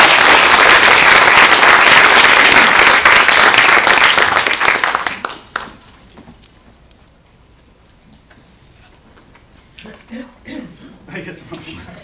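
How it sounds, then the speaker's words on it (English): Dense, loud applause from an audience at a high school Shakespeare competition final in Hawaii fills the first few seconds, then drops off abruptly, leaving a quiet room with scattered voices. "I get some claps."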